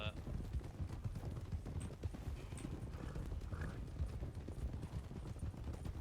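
Arabian horse hooves clip-clopping in the Western roleplay game RedM, a dense, steady patter running throughout under a constant low rumble, with voices faintly in the background.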